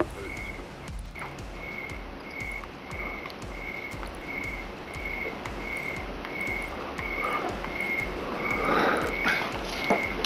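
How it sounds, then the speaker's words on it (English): Night ambience in Call of Duty with a steady, regularly pulsing insect chirp repeating about once a second over a dense background hum, with a few faint clicks and a louder burst near the end. "We want to hear the crickets."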